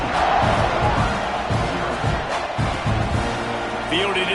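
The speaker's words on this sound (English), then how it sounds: "this crowd is buzzing after that last score" A stadium crowd at a college football game buzzes after a score, a dense, continuous roar of many voices with scattered shouts, while a commentator talks over it.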